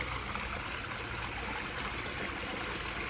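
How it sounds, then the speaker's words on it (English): Running stream in a botanic garden in Cairns, a soft continuous babble and trickle of water, steady and fairly quiet with no voices. "A running stream."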